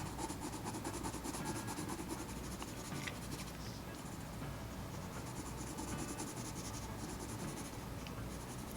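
A pencil presses hard on paper, shading an elephant drawing with a continuous scratchy rubbing stroke that stays close and steady throughout, with no voices.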